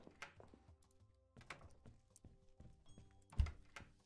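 Doors in the game Animal Shelter Simulator thud against a character's leg in a few soft, dull knocks scattered among light clicks and taps, with the loudest thump near the end.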